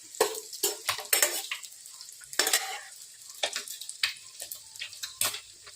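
An egg dish fries in oil in a pan while a utensil stirs and scrapes it, giving bursts of sizzling and clatter in an uneven rhythm, close and fairly loud with quiet gaps between strokes.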